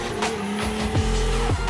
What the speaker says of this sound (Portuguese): precisa mesmo queimar borracha na pista